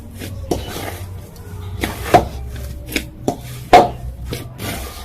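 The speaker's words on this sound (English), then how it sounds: "As you can see, I'm using my fist to make sure that I knead this dough thoroughly." Bread dough for sweet orange-zest mahamri being kneaded and pressed by hand with a fist, giving soft irregular thumps and rubbing on a work surface, a few louder knocks among quieter presses.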